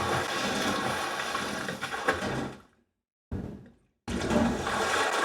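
A semi truck splashes into a river in the Teardown video game: a loud, broad rush of churning water that fades to silence, then a short splash burst and another heavy surge of water to the end.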